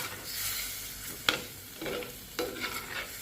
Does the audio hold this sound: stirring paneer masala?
yes